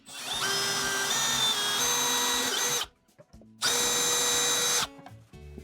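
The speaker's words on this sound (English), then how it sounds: "You can drill all the way through." A power drill whines loudly in two sustained runs through a cabinet door for hardware installation, separated by a brief pause, with the motor pitch shifting slightly as it bites through.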